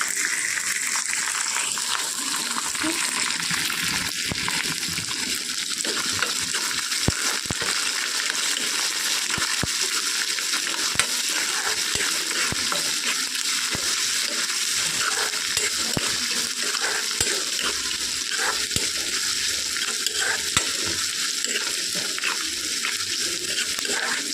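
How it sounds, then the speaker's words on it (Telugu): Onions, green chillies and curry leaves fry in a pan after peanuts, making a long, even crackling hiss broken by scattered metallic clinks and stirring taps, close and moderately loud with no voices. "ఆనియన్స్, తర్వాత గ్రీన్ చిల్లీ, కరివేపాకు, ఇవి బాగా ఫ్రై చేసుకోవాలి"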